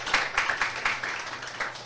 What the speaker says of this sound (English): Everyone, a round of applause for everybody, for Vanessa